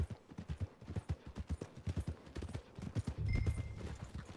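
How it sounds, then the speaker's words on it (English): Horse hooves clip-clop steadily on hard ground in the Red Dead Redemption 2 video game, an even walking rhythm throughout, close and clear, with a low rumble and a brief tonal whine near the end. "Take the horse into the stable."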